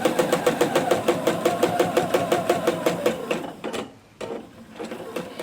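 A sewing machine stitching quilt fabric strips end to end, running in a fast, even rhythmic chatter up close, then slowing and pausing briefly before starting again.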